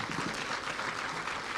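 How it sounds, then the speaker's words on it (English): An audience claps for the GDC board members at a political gathering in Nakuru County, Kenya, a brief, steady wash of applause with no pause. "Give them a clap,"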